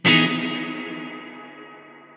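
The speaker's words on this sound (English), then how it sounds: "10 seconds of reverb." Guitar run through the Baby Audio Crystalline algorithmic reverb set to a 10-second tail: a single loud strummed chord attack that blooms and then decays slowly, the shimmering tail still ringing as it ends.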